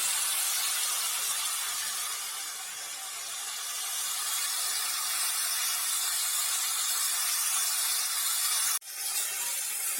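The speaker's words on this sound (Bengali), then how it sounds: "দেখুন বন্ধুরা মশলাটি কষিয়ে নিচ্ছি" Spice paste frying in oil in a pan while a koi fish curry is prepared: a steady, bright sizzle and hiss that runs throughout, with a single sharp click near the end and no voices.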